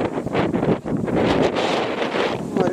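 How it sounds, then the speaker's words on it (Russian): Steady wind gusting against the microphone beside a pond with waves, a continuous rough roar with slight surges, no voices. "Ветер со всех сторон."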